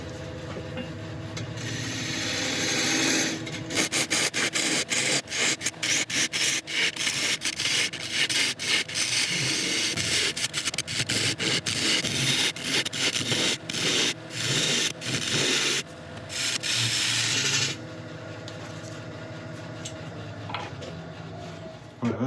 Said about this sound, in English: So I'm going to start working in and start hollowing this out.